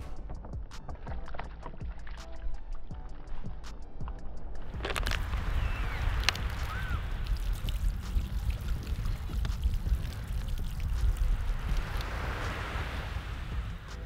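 A strong water jet sprays and splashes continuously at close range after a quieter, drippy opening, building into a dense, loud rushing wash that lasts for several seconds.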